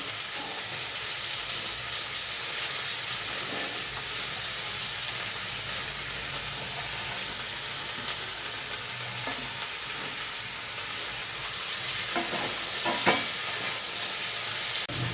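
Potatoes, beetroot and carrot frying in a pan, a dense, continuous close sizzle with occasional scraping stirs, loud and steady throughout, with no voices.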